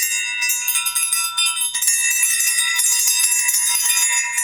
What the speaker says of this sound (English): These are elephant bells.